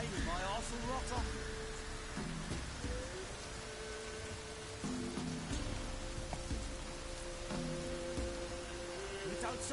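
Steady rain in The Witcher video game, an even broadband hiss of drops on surfaces with low rumbling, mixed with faint tonal game sounds and indistinct background voices.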